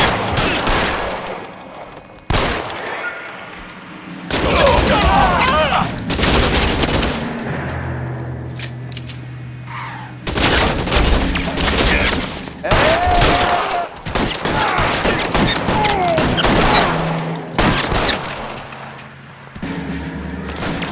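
A gunfire shootout in the video game L.A. Noire, with repeated loud bursts of rapid shots broken by brief lulls across the scene, and a few shouted voices in between.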